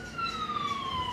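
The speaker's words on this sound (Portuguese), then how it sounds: "Eu ouvi as sirenes e do nada arrombaram a porta." A police siren wails in a long, slowly falling tone that is clear but somewhat distant, set against a low hum of street traffic.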